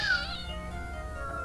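A person imitates a cat, giving one drawn-out, high, wavering meow that slides downward and then holds steady at close range, loud and clear with no other voices.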